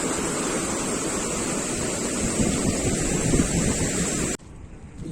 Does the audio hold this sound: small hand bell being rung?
no